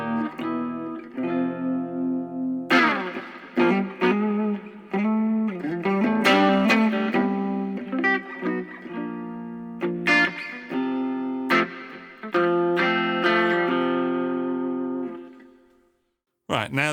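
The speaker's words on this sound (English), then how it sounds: "Up first, clean channel, everything set at 12," Electric guitar played through the clean channel of a Boss Katana-Mini X with every control at noon and a touch of reverb: strummed chords and picked melodic lines ringing out in a close, steady stream, ending with a brief pause and a final note.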